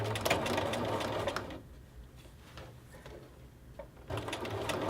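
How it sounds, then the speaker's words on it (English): A sewing machine runs a regulation stitch over basting along a zipper on a fleece jacket, close and mechanical, in two bursts with a quieter pause between them and no talking. "you are going to sew with a regulation stitch right on top of that basting stitch that you just used,"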